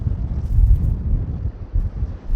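Strong wind buffets the microphone on South Shields Pier by a rough October sea, a steady low roaring rumble that swells and dips throughout with no voices.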